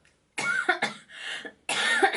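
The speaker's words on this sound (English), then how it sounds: "please excuse my cough" Three harsh coughs close to the mic from someone recovering from the flu, two in quick succession, then a pause and a third.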